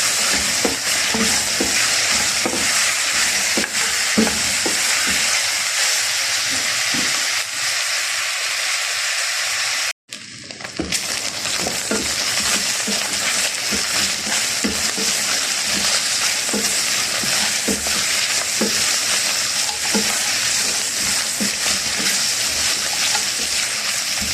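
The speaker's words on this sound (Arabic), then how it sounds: "نديها تشويحة بالسمنة." Okra and lamb saute in ghee for a baked tagine, giving a steady sizzle with frequent stirring clinks and scrapes that pauses briefly midway, then carries on at the same level with no voices.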